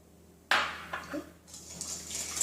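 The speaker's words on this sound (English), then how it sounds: "So now I'm going to add about 1 teaspoon of sugar and mix that." Crepe batter with sugar being mixed, a sharp clink of a utensil against a bowl followed by soft stirring and scraping sounds, close and moderately loud with no talking.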